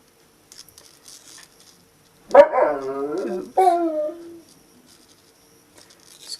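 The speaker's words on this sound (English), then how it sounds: "Excuse my dogs in the background." Dogs howl and bark in a room during a crochet session, two drawn-out wavering howls up close with faint yips and patter around them.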